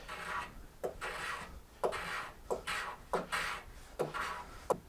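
A solid mahogany guitar block is scraped by hand in a steady series of about six rasping strokes, each ending in a light knock, close and fairly quiet.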